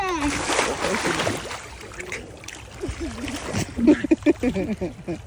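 Water splashes and sloshes in bursts in a pool while children shout and talk over it, the splashing getting choppier toward the end.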